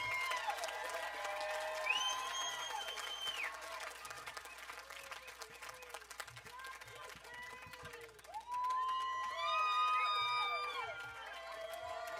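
Audience at Nowoodstock 2024, a live outdoor music festival, applauding and whooping after a set, a moderate wash of clapping and cheers with a few whistles, growing louder toward the end.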